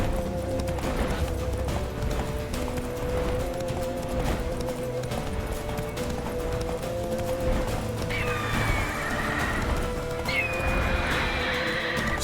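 Roach, the horse from The Witcher 3: Wild Hunt Enhanced Edition, gallops with steady clip-clop hoof beats and lets out a loud, clear neigh near the end, over a dense game soundtrack.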